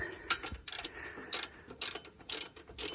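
Ratchet clicking in short bursts as it turns a bolt on the EGR coolant pipe of a Cummins X15 diesel engine, about five quick ratcheting strokes in a quiet shop with no talking.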